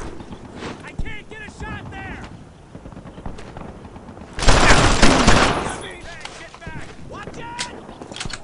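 Bursts of rifle and machine-gun fire crackle through a Brothers in Arms: Earned in Blood battle, with a heavy loud fusillade midway, scattered shots around it and soldiers shouting over the gunfire.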